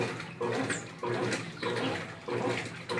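A washing machine fills with water during a test cycle after repair, with close, loud gushing in rhythmic bursts that surge and pause roughly every half second, and no voices over it.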